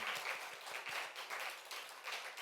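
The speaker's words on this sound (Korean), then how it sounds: "오늘 우리 찬양팀 박수 한번 치줍시다." Steady applause from a church congregation at a youth and young adult worship service, cheering the worship team, with rhythmic clapping throughout a brief stretch.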